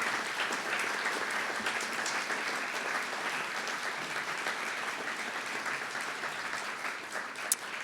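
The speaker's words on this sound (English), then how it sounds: "Will you all join me in giving a round of applause to Dr." A lecture audience gives steady, dense applause for a speaker at the Smithsonian Lecture Series, continuous clapping at an even level for nearly eight seconds.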